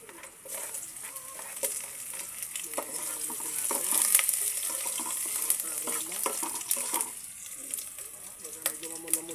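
Ginger fries in a pan for chicken tinola, a steady crackling sizzle with scattered pops and occasional stirring scrapes, close and moderately loud throughout.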